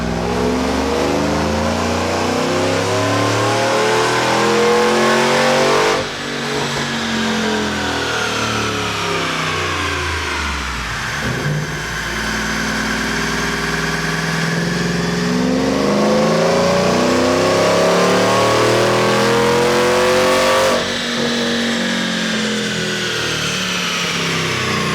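An Edelbrock 2650 supercharged GMC Sierra 1500 revs hard on a dyno in two long rising pulls, the engine note climbing loudly and steadily, then dropping and climbing again, with supercharger whine riding over it.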